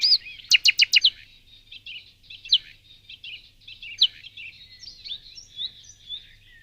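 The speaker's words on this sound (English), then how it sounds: "A nightingale only has to hear the tutor song once and it can reproduce it," A nightingale sings alone in a quiet setting: a quick burst of repeated sharp chirps, then varied whistled phrases and trills spaced across the passage, clear and fairly close.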